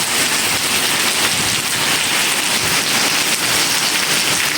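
Steady, loud monsoon rain pours down close by near the Mata Naina Devi shrine, a dense unbroken hiss of drops on surfaces with no voices.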